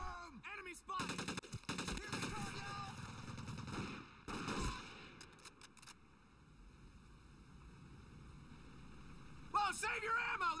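Gunfire in a video game shooter: rapid automatic bursts with sharp single shots, loud and close, breaking off into quieter background noise, then a final burst near the end, with someone talking over it.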